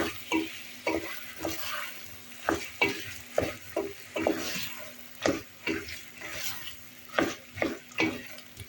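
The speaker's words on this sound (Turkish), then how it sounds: "Şimdi de bezelyelerimizi ekliyorum. Onunla da şöyle bir güzel karıştıracağım." Peas stirred in a frying pan, a spoon scraping and tossing them in sharp repeated strokes over a soft sizzle, close and steady with no talk.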